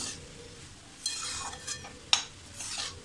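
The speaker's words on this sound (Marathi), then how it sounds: "आता हे असं व्यवस्थित परतून घ्यायची." Leafy greens with grated coconut are stir-fried in a pan, with a quiet background sizzle broken by a few sharp scrapes and clinks of a spoon against the pan.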